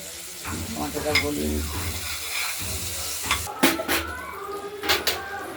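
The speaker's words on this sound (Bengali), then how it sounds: "কুচি করে দিয়েছি টমেটো সহ আমরা একটু ভেজে ভেজে নিচ্ছি" Chopped tomatoes sizzle in a frying pan for a Bengali rohu fish and potato curry, with a voice-like murmur early on and sharp scrapes and clinks of stirring against the pan later.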